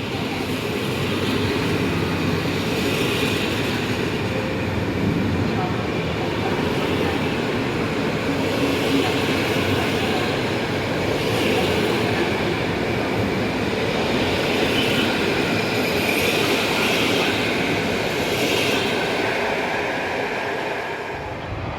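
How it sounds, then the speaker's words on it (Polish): Passenger train on the Kraków Główny to Warszawa Wschodnia run pulling into Warszawa Zachodnia station, a loud, steady, close rumble of wheels and carriages that fills the whole stretch without a break. "wjeżdża Kinga. I to jest Kinga z Krakowa Głównego do Warszawy Wschodniej"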